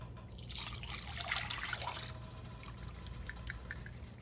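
Apple cider vinegar pours steadily from a large 32-ounce jug into a pot for candied jalapeños, a continuous liquid trickle that swells in the middle and then thins to faint drips.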